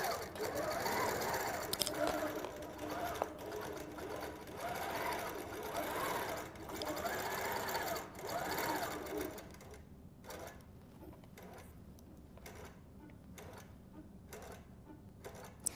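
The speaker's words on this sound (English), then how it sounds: "We'll go ahead and pull up the bobbin, and it's going to start to sew." A computerized embroidery sewing machine stitches a party-themed quilt with a fast, steady rattling hum that pulses in bursts, then drops to quieter, intermittent ticking and clicks.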